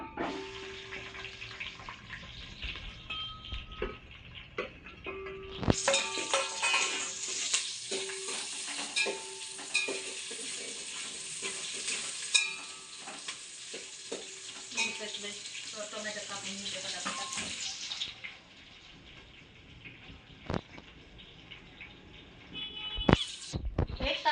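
Chopped onion and whole spices hit hot oil for veg pulao, bursting into a loud, hissing sizzle that runs about twelve seconds with stirring scrapes, then drops back to a quieter pan sound.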